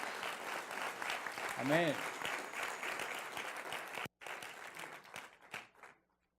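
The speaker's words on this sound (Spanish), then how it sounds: "Dale un fuerte aplauso al Señor." Congregation applauding at a water baptism, dense steady clapping through most of the stretch, with a voice calling out over it, then a brief gap before the clapping resumes and tapers off.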